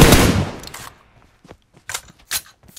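A loud burst of video-game gunfire at the start, fading out within a second, then a few scattered faint shots and clicks.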